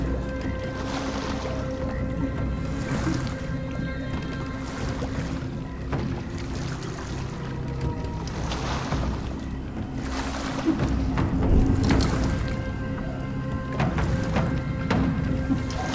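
A boat moves steadily through bayou swamp water in the video game Sherlock Holmes: The Awakened, with a constant low rumble, wind noise and gentle sloshing that grow slightly louder toward the end.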